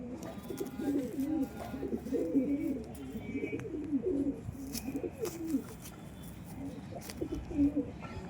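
Pigeons coo in repeated low, rolling phrases, steady and fairly near, over a constant background hum with occasional faint chirps.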